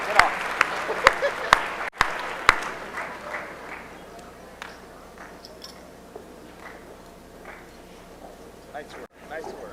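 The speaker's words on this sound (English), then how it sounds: "Let's give them a round of applause for their achievement over their 4 years here." Scattered hand claps at the Northeastern High School 2019 senior academic awards assembly, a few sharp close claps at first that soon thin into faint, sparse patter beneath ongoing talk.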